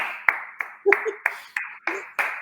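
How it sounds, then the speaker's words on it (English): A small group of people clap together in a quiet room for a pretend studio audience, about eight sharp, evenly spaced claps, close and distinct, with a few voices murmuring between them. "We're gonna clap now."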